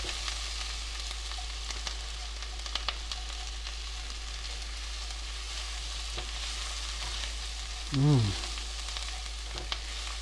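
Minced garlic, three cloves, sizzles steadily in a pan for a beef burgundy, a constant close hiss with faint occasional stirring clicks and one brief low tonal sound near the end.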